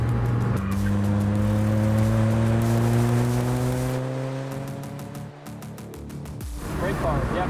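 A track-prepped Mini Cooper JCW accelerates uphill on a racetrack, engine note climbing steadily through rising revs, dipping briefly at a gear change, then pulling again, heard loud from inside the cabin.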